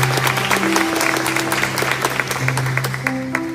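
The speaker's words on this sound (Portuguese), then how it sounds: "Dá uma salva de palmas." Congregation giving a round of applause during a sermon; an even wash of many hands clapping throughout, with sustained musical tones, likely from a keyboard, running underneath.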